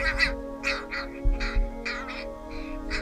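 Young crows being hand fed at a wildlife care facility, giving repeated loud, harsh, nasal begging caws close by in quick bursts, with no talking.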